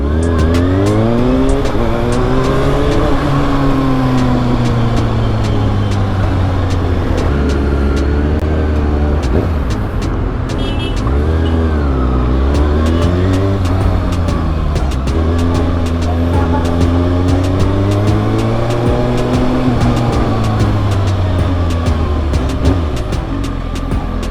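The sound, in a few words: motorcycle engine revving during emission test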